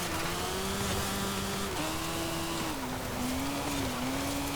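A 2021 Sierra Cars RX3 off-road racer in Forza Horizon 5 holds a loud, continuous engine drone, its pitch dipping and rising slightly as the revs shift.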